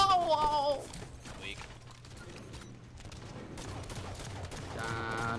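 Scattered gunshots in a Halo multiplayer match, faint and distant, popping in short clusters beneath game effects and low background noise.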